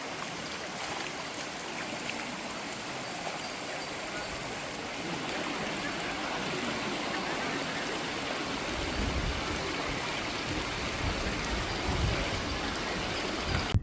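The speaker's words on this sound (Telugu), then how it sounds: "ఇప్పుడైతే మనం జలపాతం దగ్గరకు వచ్చేసాం" Penchalakona waterfall, a broad continuous rush of falling water that stays steady and fairly loud, with no voices over it.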